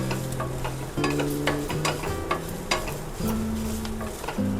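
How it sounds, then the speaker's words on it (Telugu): Gongura leaves sautéing in a pan for a village-style chutney, a steady sizzle with a spatula scraping and clicking in irregular strokes, close and continuous. "మగ్గుతుంది గోంగూర."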